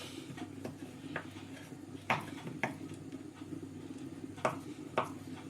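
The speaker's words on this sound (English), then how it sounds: "so just cutting this butter up" Butter cut into small pieces with a knife for a rhubarb crumble, producing a few soft, sharp knife taps against a board, spaced irregularly over a low kitchen hum, with no talking.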